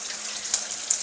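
Sauce hits a hot frying pan while Liberian-style attieke is being cooked. A steady, close sizzling hiss lasts about a second, with two small spits in it.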